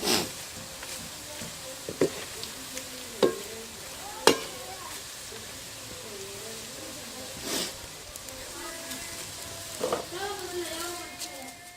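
Masala-coated potato chips deep-fry in hot oil or ghee, a continuous bubbling sizzle with occasional sharp spoon knocks, while a voice talks over it at moments.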